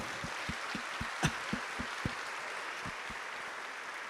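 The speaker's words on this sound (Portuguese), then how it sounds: "Pode bater palmas." A church congregation claps together in a slow, even beat, with about a dozen distinct claps spaced regularly and one sharper clap standing out, moderately faint and somewhat distant, with no talking over them.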